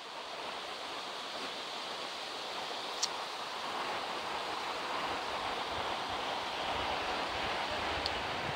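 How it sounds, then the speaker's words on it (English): The Boyana waterfall on a Vitosha mountain hike pours steadily in a dense, unbroken roar close by, with no voices and only a couple of tiny clicks over the rushing water. "I'll just stay here for a while to take in the waterfall."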